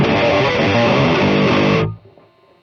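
An electric guitar runs through a Klirrton OH MY GOAT distortion pedal into a Nux Solid Studio, recorded direct with the mids boosted, giving a loud, thick, sustained distorted chord that cuts off abruptly and decays into near silence.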